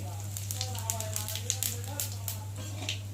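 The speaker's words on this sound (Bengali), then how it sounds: "তেজপাতার ফোড়নটা একটু ভালো করে ভেজে নেব" Bay leaf and whole cumin seeds frying in a little hot oil in a kadai for a rohu fish and potato curry, giving a steady close crackle and sizzle with scattered pops over a low constant hum.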